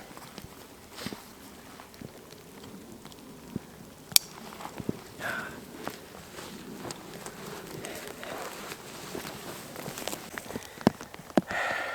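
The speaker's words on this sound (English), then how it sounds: "Hopefully the rain passes." Rain falling in the woods on public land, a soft, steady patter with scattered sharper drops and taps against nearby surfaces, fairly faint and continuous.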